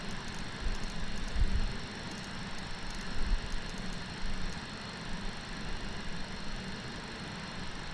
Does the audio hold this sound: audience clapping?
no